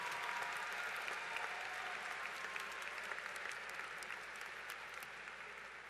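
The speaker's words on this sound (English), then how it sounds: "Graduates, how about a round of applause for your parents, your family members, your spouses, your friends, and your professors that played a role in getting you here today." Large graduation commencement audience at the University of Michigan-Dearborn applauds steadily, a broad, even wash of many hands clapping that carries on at a distance without letting up, then eases slightly toward the end.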